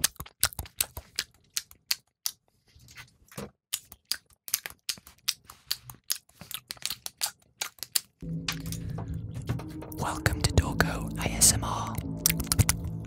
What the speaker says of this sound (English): he likes to chew gum excessively